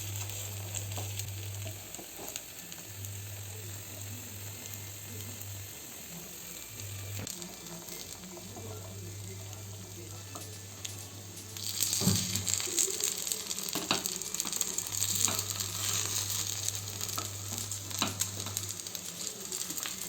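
Flipped guliyappam cook in a pan over medium heat with a quiet, steady sizzle, a low on-off hum beneath and a louder crackling surge about halfway through.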